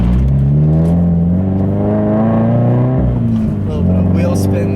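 A Subaru BRZ accelerates hard with a loud, steady engine drone that climbs in pitch, dips briefly at a gear change and climbs again, heard close from inside the car.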